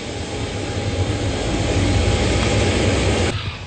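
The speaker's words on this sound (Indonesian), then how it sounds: "Pesawat khusus kepresidenan Indonesia buatan perusahaan pesawat Boeing Company Amerika Serikat akhirnya tiba di Bandara Halim Perdana Kusuma" An Indonesian presidential Boeing aircraft arriving at Halim Perdana Kusuma airport produces a loud, steady engine roar that fills the whole stretch and then cuts off near the end.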